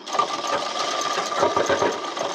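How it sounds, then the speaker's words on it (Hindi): A sewing machine stitches the hem of a small child's pajama in a rapid, steady mechanical chatter, close and fairly loud, running continuously without pause. "अब इसमें हम सिलाई लगाएंगे।"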